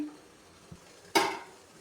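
A lid lifts off a steamer pot holding steamed fish with green chilies and curry leaves, giving one sharp metallic clatter followed by a brief hiss of released steam, after a soft earlier knock in a quiet kitchen.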